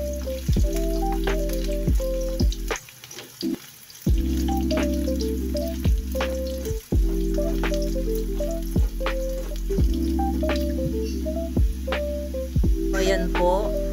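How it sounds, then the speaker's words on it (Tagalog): Kikiam fish balls fry in a pan for pancit bato, a loud continuous crackling sizzle under background music, dipping briefly before resuming. "Ipiprito po muna natin yung ating kikiam."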